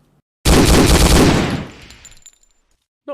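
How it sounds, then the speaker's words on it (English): BAR rifle fire in the video game Hidden & Dangerous 2, a loud close burst of rapid shots lasting about a second, then a fading echo and silence. "successive shots with the BAR to hit the target rather than continuous firing"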